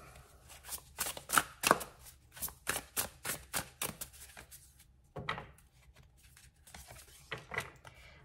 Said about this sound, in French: Alors, on va prendre 2 dernières cartes.